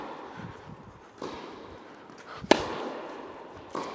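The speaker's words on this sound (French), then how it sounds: "je me focalise sur les sensations de jeu quand je tape dans la balle." Wilson Clash 100 V3 tennis racket striking a ball on court: one sharp, loud impact pop stands out over a steady background of outdoor noise, with a fainter knock near the end.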